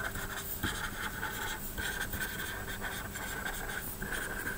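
Chalk or marker scratching across a board in a linear algebra lecture hall, a steady run of short strokes and taps that stays at a moderate level throughout, with no talking over it.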